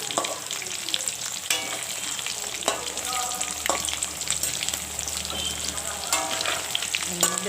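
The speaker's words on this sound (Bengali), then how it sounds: "আলুগুলোকে ভালো করে ভেজে নিচ্ছি" Potato pieces fry in hot oil in a pan, giving off a continuous close sizzle with occasional stirring clinks and scrapes throughout.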